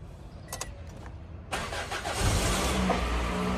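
A car with a weak starting problem cranks and then catches, the engine turning over and settling into a steady, close idle with no talking.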